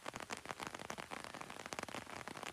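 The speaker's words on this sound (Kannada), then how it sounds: "ತುಂಬಾ ಅಂದ್ರೆ ತುಂಬಾ ಮಳೆ ಬರ್ತಾ ಇದೆ" Heavy rain pours steadily onto surfaces around a house inside a park, a dense, continuous patter with no voices.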